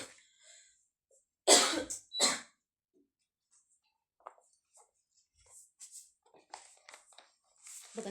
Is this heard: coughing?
yes